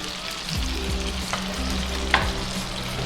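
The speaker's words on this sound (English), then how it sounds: "Oh, nice and sizzling." Food fries and sizzles steadily in a pan, a constant crackling hiss with a few sharp pops and a low clatter of stirring.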